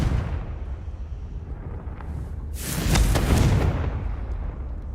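A Confringo fire spell bursts in the Hogwarts Legacy video game: a sudden deep boom with a crackling, roaring blast tail that swells and lingers over low background rumble.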